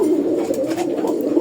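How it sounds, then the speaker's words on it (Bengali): Domestic pigeons, a pair of traditional village birds, coo in a low, steady murmur that runs continuously through the short stretch, close by and moderately loud, with no talking. "এই জায়গায় এক জোড়া মাক্সি কবুতর আছে, আমি ডাকটা একটু দেখাই"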